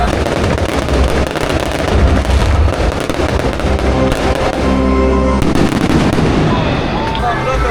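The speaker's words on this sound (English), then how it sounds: "the most amazing fireworks show" A continuous, dense barrage of fireworks bursts and crackles at a PortAventura night show, loud and overlapping, with crowd noise mixed in underneath.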